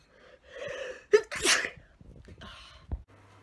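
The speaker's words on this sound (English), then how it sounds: "I'm gonna sneeze." A single loud, close sneeze from a woman at home, preceded by a short sharp intake of breath and followed by a quieter exhale and faint rustling.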